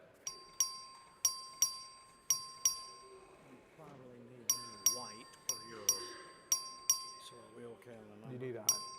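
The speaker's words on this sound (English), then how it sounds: "Clerk will ring the bell." A legislative chamber's voting bell rings in a repeated series of sharp, bright dings in two bursts, ringing out clearly as people talk in the background between strikes.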